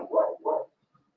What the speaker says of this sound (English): There's a little dog passing past the back.